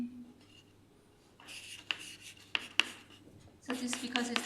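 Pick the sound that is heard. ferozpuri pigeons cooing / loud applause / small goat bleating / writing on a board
writing on a board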